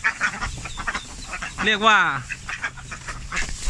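A single duck quacks loudly in the middle, a harmonic honking call standing out over someone talking and background noise at a duckling farm for egg-laying ducks on Romklao Road.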